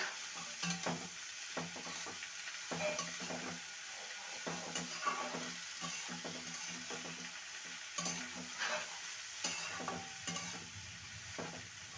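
Bottle gourd curry is stirred in a frying pan with a utensil, a soft continuous sizzle under regular scraping and knocking strokes that repeat through the whole stretch, with no voices.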